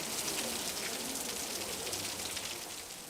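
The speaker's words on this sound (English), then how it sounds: "It's raining and everyone has gone to seek shelter." Steady rain patters on a North Korean collective farm, a dense even hiss of drops that fades slightly toward the end, with no voices.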